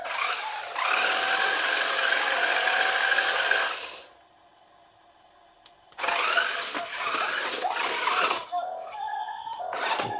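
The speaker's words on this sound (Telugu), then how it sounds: "ఇదిగోండి ఇంజిన్ ఆన్ చేశాను" A battery-powered remote-control toy car made in China, with a double engine and double spray, gives off a harsh, raspy mechanical whirring buzz in two long bursts separated by a short silent pause, fairly loud and close.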